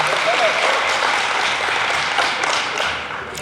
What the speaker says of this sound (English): Please give a round of applause for Ayman